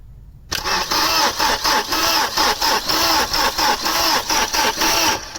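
An Opel Omega 2.4i barn find that has sat parked since 2003 is cranked by its starter, giving a loud, rhythmic churning that pulses several times a second for about five seconds without catching.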